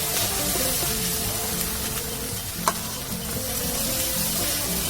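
Spice paste with chicken sizzling and frying in a pan as it is stirred, a continuous close crackle holding steady, with one sharp clink near the middle and no voices.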